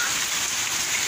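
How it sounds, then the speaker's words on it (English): Rain falls steadily during a rainy spell while a car is being cleaned, a dense, even hiss close by with no voices. "It's raining."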